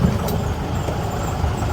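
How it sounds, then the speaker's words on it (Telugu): A car rumbles close by on a narrow, rough hill road in Munnar, its engine a low, steady drone that fills the moment without pause. "ఇంకో కారు వస్తుంది అక్కడ."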